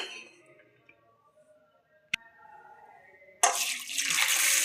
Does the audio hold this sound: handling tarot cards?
no